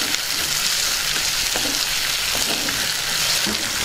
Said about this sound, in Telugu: ఇప్పుడు టమాటో ముక్కలు వేసేసుకుందాం. ఒకసారి బాగా కలుపుకుందాం.